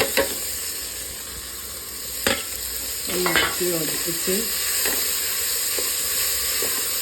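Onion and green chillies sautéing in a pressure cooker for chicken kurma, with a steady close sizzle broken by sharp spatula knocks and scrapes, and a voice briefly speaking over it.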